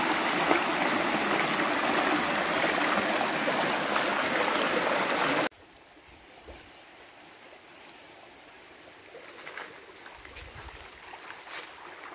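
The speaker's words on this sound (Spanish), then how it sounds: "Aquí sí pueden escuchar el ruido del agua," A water stream flows steadily and loudly at an outdoor fishing spot, a dense rushing wash that stops abruptly halfway through, leaving quiet outdoor ambience with faint scattered sounds.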